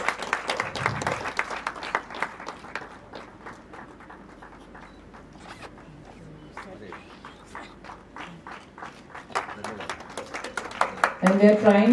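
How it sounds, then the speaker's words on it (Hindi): Patchy applause from the audience at a national deliberation meeting in Vrindavan, quick clapping that thins out in the middle before rising again near the end, where a voice begins speaking over it. "तालियां बजती रहनी चाहिए।"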